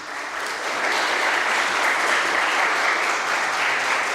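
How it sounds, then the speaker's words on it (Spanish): An audience at an engineering lecture on the seismic behavior of timber structures welcomes an engineer with dense, even applause that swells quickly and holds steady, moderately loud, with no talking over it. "Recibamos, por favor, con un cordial aplauso al ingeniero Luis Fernando Cirumbal."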